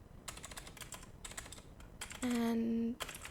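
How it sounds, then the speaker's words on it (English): Quiet keystrokes on a computer keyboard tapping out a short word in an irregular rhythm, with a brief electronic beep tone cutting in near the end. "I'm just going to type in hello"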